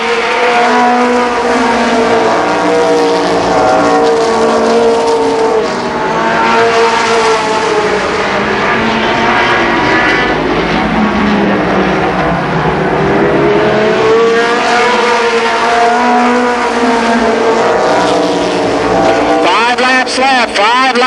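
Stock cars race at Columbus Motor Speedway, engines roaring continuously as the pack passes, with a commentator talking over the din throughout.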